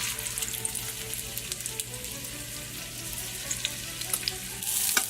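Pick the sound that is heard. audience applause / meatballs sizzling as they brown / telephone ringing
meatballs sizzling as they brown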